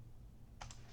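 A few quick keyboard clicks as entries are typed into a loan spreadsheet, two or three faint taps close together over a low background hum, with no talking.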